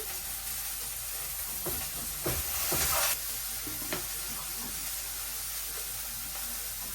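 Malabar spinach stems with salt and chili sizzle in a pan as a steady close hiss, with a few brief stirring clatters and a short burst of louder spitting midway.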